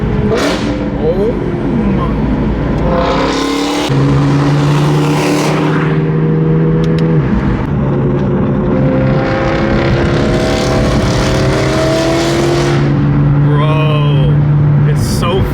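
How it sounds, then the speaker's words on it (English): A car with a very loud exhaust drives and accelerates. The deep engine note rises and falls with each rev and gear change, loud and close throughout, while a person talks over it. "There's no way you cannot like the sound of this car"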